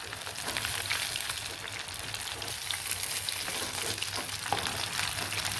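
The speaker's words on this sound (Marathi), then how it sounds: "बघा मच्छी आपली छान तळून झाली आहे" Katla fish pieces fry in hot oil, giving a dense, continuous hiss-like sizzle with fine crackling, close and even in loudness from start to finish.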